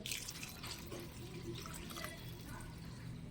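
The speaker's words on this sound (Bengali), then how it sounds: "এর মধ্যে পরিমাণ মতন জল দিয়ে দিলাম" Water poured into a pot of dal, a faint, steady trickle and splash that continues throughout at low level, with no voices.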